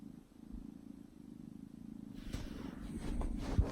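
A cat purrs close up in a steady low rumble that grows a little louder near the end, with a soft bump at the very end.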